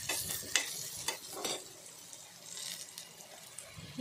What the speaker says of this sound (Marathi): आता ह्याच्यावर थोडंसं पाणी टाकून वाफेवर शिजवून घ्यायचं आहे.